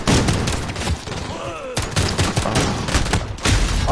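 Rapid bursts of gunfire in Call of Duty Modern Warfare, dense and loud throughout, with a brief pause mid-clip and a whistling ricochet-like tone between volleys.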